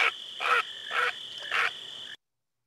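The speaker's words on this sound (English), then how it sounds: "this heron was terrified, and it flew out of there squawking and croaking in alarm and panic like so" A great blue heron gives four harsh, squawking croaks of alarm in a forest park setting, each call loud and raspy with short gaps between them, followed by silence.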